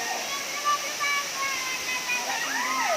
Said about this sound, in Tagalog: Ang ganda ng falls, guys.